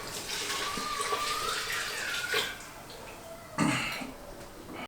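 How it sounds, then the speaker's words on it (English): Water poured from a cup into a pressure cooker of rice for chicken biryani, a steady close splashing stream that surges again near the end. "So I'm adding 6 cups of water."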